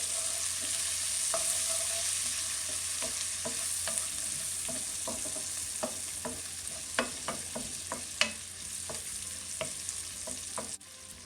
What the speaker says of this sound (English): You can see the butter's really melting in here.